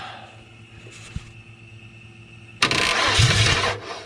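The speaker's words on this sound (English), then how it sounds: "I'm gonna jump the starter and see what happens." A starter cranks a Ford 5.0 V8 swapped into a 1994 Jeep YJ, a loud, close, churning whir lasting over a second after a quiet stretch, and the engine does not catch.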